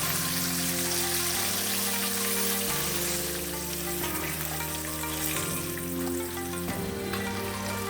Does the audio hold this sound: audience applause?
no